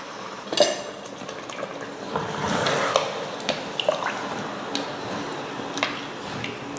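Water poured into a pressure cooker over two tumblers of seeraga samba rice for chicken biryani, with clinking of a metal tumbler and pot amid steady splashing, close and moderately loud.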